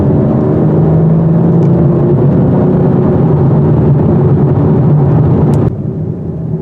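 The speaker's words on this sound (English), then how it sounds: "Let's get some of that BMW passing power going here." A 2021 BMW M4 Competition accelerating hard to pass a slow car on a 55 mph road, a loud sustained engine drone heard from inside, steady throughout, then dropping in level near the end; no talking.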